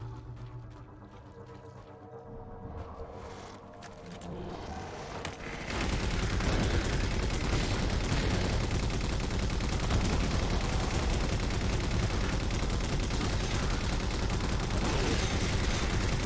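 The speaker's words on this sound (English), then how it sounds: "Hold off big damn turret sequence here." Heavy turret fire in Halo 4 bursts in after a quieter stretch of game sound and then hammers on without a break, loud, dense and close for the rest of the stretch.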